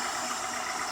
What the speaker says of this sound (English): Here's the engine. You can hear it run.